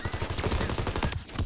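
Gunfire in Call of Duty WW2 during an ambush mission, a rapid burst of repeated automatic shots at moderate loudness, fading out near the end.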